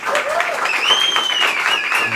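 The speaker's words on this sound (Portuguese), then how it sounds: "eu queria uma salva de palmas para a Rúbia aqui hoje à frente." Audience applause, with a brief burst of clapping heard under a voice and a high whistle-like tone running across it.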